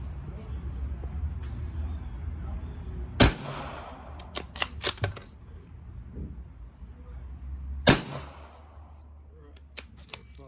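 Unsuppressed shots from a Ruger 77/357 rifle firing .38 Special rounds outdoors, two loud cracks several seconds apart with a few quieter clicks and clatters of handling in between, and someone speaking briefly.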